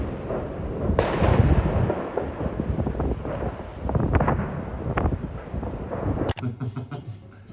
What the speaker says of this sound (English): I'm scared of fireworks.